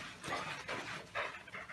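A dog pants in quick, breathy bursts with a few soft whimpers mixed in, close by and fairly quiet, brief and without speech.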